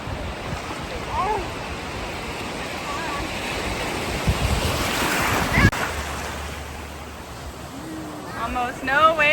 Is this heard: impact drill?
no